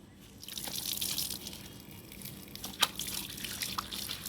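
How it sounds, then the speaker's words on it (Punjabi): Running tap water splashing and trickling as hands are washed at a sink, steady and close, with a few sharper drips and splashes and no talk. "ਹੈਂਡ ਵਾਸ਼ ਕਰ ਪਹਿਲਾਂ ਹੈਂਡ ਵਾਸ਼ ਕਰ"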